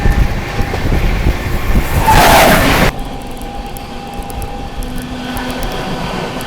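The Amritsar Howrah Mail passes close by in a loud, rushing roar of rail noise that cuts off abruptly after about three seconds, leaving a quieter steady rumble.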